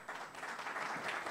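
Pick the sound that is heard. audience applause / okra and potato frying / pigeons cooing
audience applause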